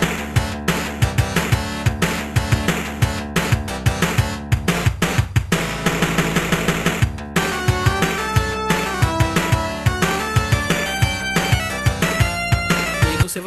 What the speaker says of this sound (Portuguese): E esse é o som do port pro Mega Drive do Street Fighter 2 Champions Edition.